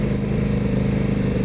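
KTM RC8 sport motorcycle's big-displacement engine under way while riding, a steady, loud, close mid-pitched drone with a slight rise in revs and no talk over it.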